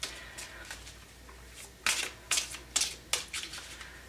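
A deck of tarot cards is shuffled by hand in a series of crisp riffling bursts, about five loud flutters close by after a quieter start, with brief pauses between them.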